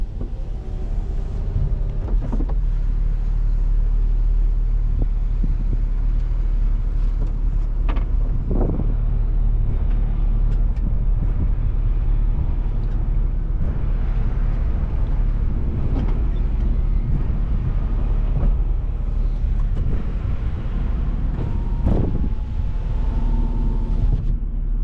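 A BMW 335i E93 LCI convertible drives along the road and makes a U-turn in manual mode, its engine a steady low rumble throughout with wind buffeting and a few brief tyre and road noises, no talk.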